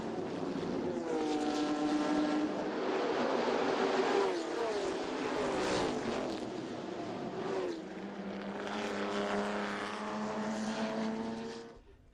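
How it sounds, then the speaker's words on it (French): A 1963 Ford GT40 and a Ferrari 275 330P race at the Le Mans Classic. Their engines roar past one after the other, swelling and fading with changing pitch over a continuous loud drone. "Et voici une Ford GT40 de 1963, suivie de la Ferrari 275 330p modèle victorieux en 1964."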